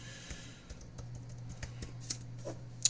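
Someone types on a computer keyboard with a quiet, irregular run of soft key clicks and a slightly louder tap near the end, with no one talking.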